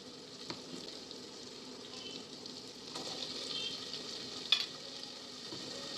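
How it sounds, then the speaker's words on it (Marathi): Potatoes for sambar are stir-fried in a pan, a soft continuous sizzle with faint stirring scrapes and one sharper clack of the utensil, with no voices. "चांगलं परतून घ्यायचं बटाटे शिजायला पाहिजे"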